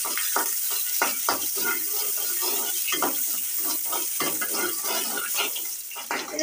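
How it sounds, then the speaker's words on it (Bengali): Chopped onions and green chilies sizzle and fry in hot oil, with steady crackling broken by repeated stirring scrapes throughout, close and fairly loud. "তেলটা গরম হয়ে গিয়েছে গো, পেঁয়াজ কুচি দিয়ে দিলাম"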